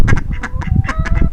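Ducks on a farm quack loudly and close up in a rapid string of harsh, nasal calls, several overlapping in quick succession.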